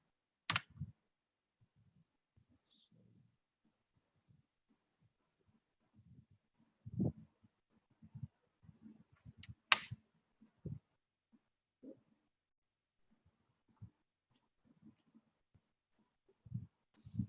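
Scattered, faint clicks of computer keys being pressed as a phone number is entered, coming in short irregular bursts separated by quiet pauses.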